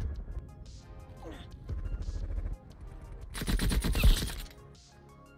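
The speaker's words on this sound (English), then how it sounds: "Couple nail gun hits." Nail gun hits in Black Ops Cold War, a few sharp mechanical impacts and crunchy bursts scattered among game noise, ending in a louder crashing flurry near the end.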